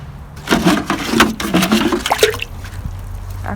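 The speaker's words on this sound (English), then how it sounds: "I'm going to water it right away" Water poured onto a banana plant growing in a 5 gallon bucket, a close splashing gush that starts abruptly, surges unevenly for about two seconds, then trickles off into quiet drips.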